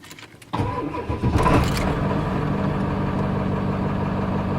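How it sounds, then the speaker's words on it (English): A 1995 Ford F-350 truck engine cranks briefly, catches with a loud burst, then settles into a steady, rumbling idle that continues close and unbroken. "But this time when we start the truck"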